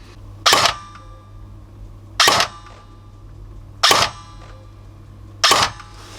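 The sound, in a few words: Evolution electronic trigger clicking without pre-cocking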